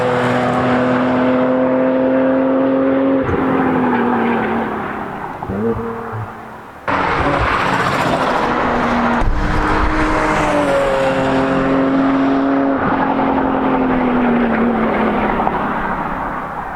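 A car fitted with Kanjo Spec.D carbon fiber roof fins driving at street-legal speeds, engine droning loudly with rising and falling pitch as it shifts, plus heavy wind rush and a brief dip in the middle.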